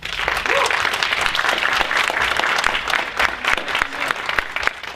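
Audience applause greets John Calvelli at a talent pipelines opening remarks event: steady, dense clapping from a full room that holds evenly throughout without any talk.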